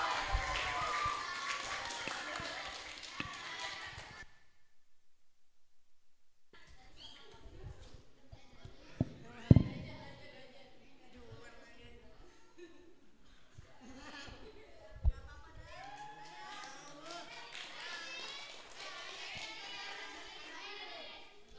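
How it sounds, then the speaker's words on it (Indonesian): Audience applause at an elementary school research seminar, a dense burst of clapping for the presenters that fades after a few seconds, followed by chatter and voices from a lively room. "Tepuk tangan untuk mereka."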